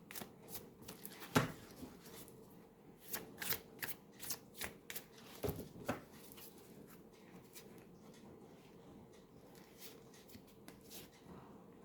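Tarot cards are shuffled close by, with crisp riffling flicks and bursts of card slaps in quick irregular clusters, then softer rustling as the deck settles, no voice over it.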